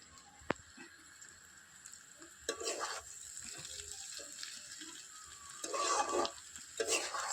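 Egg stir-fried into vegetable chowmein in a pan on a rooftop, with scraping stirring strokes and a soft sizzle that swell in bursts over a low steady background.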